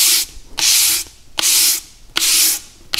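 Hand sanding a turned red oak bowl with the grain, loud rasping strokes repeating in a steady back-and-forth rhythm, about five passes close up with brief pauses between.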